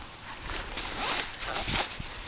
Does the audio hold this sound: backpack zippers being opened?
yes